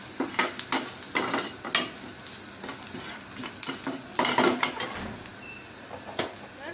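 Spices fry in hot oil in a pan with salt for a potato naan filling, a continuous sizzle broken by repeated sharp scraping stirs of a spoon against the metal, close and fairly loud.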